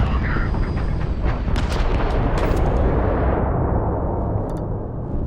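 Automatic laser weapon firing in the space game Starfield, a dense rumbling barrage with sharp bright zaps and crackles, loud and sustained before thinning toward the end.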